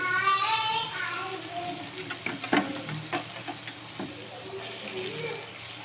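Boiled potatoes are stirred into an onion stuffing in a pan, a soft sizzle under several distinct scraping and tapping strokes of a spoon against the pan, with a voice speaking at the start.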